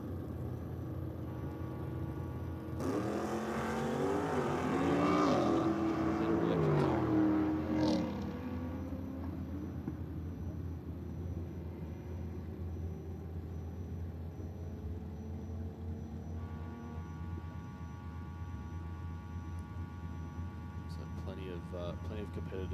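A Holden VS Ute launching on a no-prep drag strip, its engine roaring loudly for several seconds and then fading into a steady distant rumble, with an announcer talking over it.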